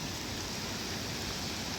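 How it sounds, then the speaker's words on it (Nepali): Heavy early-morning rain in Dubai pours down steadily, a dense, even hiss of falling water that stays constant and fairly loud throughout, with no voices. "पानी पर्यो सरर बाटो पुरै भइसक्यो"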